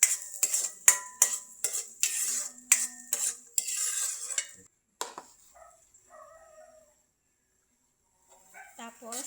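Onions and other ingredients for sari-sari stirred in a pan: a run of sharp metallic scrapes and clinks of a utensil against the pan, close and irregular, fading to quiet with a voice speaking near the end.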